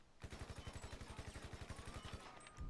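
Rapid automatic gunfire in GTA V, a fast even burst of roughly twenty sharp shots rattling out in close succession, fairly faint overall, with no talking.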